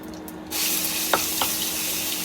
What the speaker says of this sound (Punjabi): ਆਪਾਂ ਨੇ ਸਬਜ਼ੀ ਨੂੰ ਤੜਕਾ ਲਾ ਦਿੱਤਾ